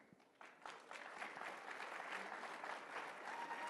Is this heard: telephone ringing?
no